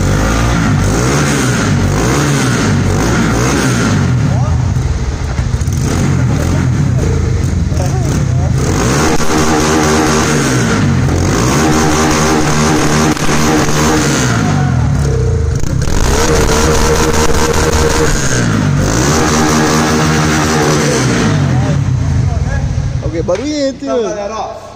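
A motorcycle fitted with a 190 kit and new exhaust revs hard again and again, the engine note rising and falling in repeated sweeps with slight misfires, loud and close throughout.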